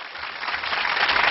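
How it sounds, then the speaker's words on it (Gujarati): Audience applause at a devotional dayro music event, a dense, steady crackle of many hands clapping that swells slightly louder toward the end, with no voices over it. "જેટલા બેઠા બધા જોરદાર તાળીનો ગડગડાટ"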